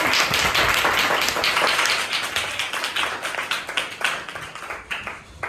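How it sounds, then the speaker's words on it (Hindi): Audience at a motivation class applauding guests, a dense burst of many hands clapping that thins and fades over several seconds, fairly close. "तो इनके लिए एक बार तालियां बजाएं"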